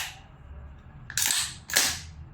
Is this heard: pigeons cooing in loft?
no